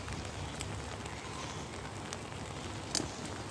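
Steady rain pattering on a campsite, a constant fine hiss of drops on tent fabric and ground with a few sharper ticks, moderately quiet and with no talking.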